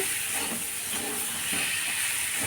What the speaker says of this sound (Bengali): এবার এটা কষিয়ে নিতে হবে। এইভাবে একটু কষিয়ে নিয়ে